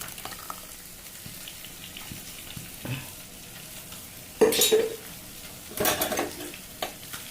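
A paste of ground coconut, shallot and turmeric is poured into a simmering curry. The pan bubbles softly, and a couple of louder splashing, sizzling bursts follow as the paste is stirred in.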